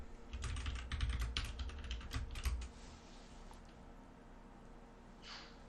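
Computer keyboard keys typed in a quick burst of close, crisp clicks for about two seconds, then quiet room tone.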